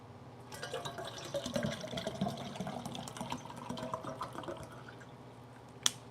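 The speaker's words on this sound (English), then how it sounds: "Let me fill up my water bottle." Water runs into a water bottle in a kitchen, a faint steady trickling and splashing that continues for several seconds and ends with a small sharp click.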